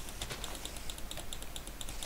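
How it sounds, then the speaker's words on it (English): A cheap computer mouse clicks in quick bursts during a Minecraft game. The clicks are faint and sit in steady hiss with a regular, fast rhythm. "Sorry about the clicking."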